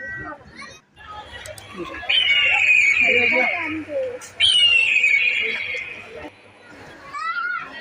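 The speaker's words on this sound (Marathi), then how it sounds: "भरपूर गर्दी असल्यामुळे गोंधळ मुलांचा आवाज मोठ्या प्रमाणात किलबिलाट होत होता" Children chattering and shouting amid a busy crowd at Jijamata Udyan zoo park in Byculla, a lively mix of voices with a couple of long high squeals or whistles.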